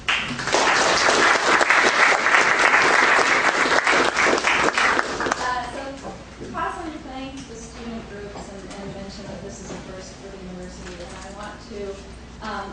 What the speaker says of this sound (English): Please join me in applauding her and bringing her up here.